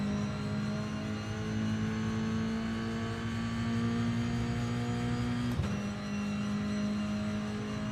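GT3 race car engine at the Nordschleife in iRacing drones at high revs, climbing steadily before a sharp upshift, continuous and close with no talking.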